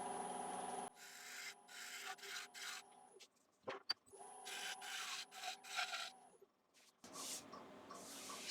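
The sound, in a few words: lathe gouge shear scraping an ash bowl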